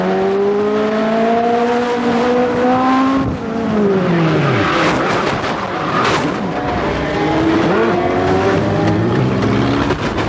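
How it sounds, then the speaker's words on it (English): Legends race cars at Columbus Motor Speedway in 1998 spin out on the track, loud engines whining and shifting pitch with tire squeal, several cars sweeping past close by in a continuous roar. "And a whole bunch of cars spin."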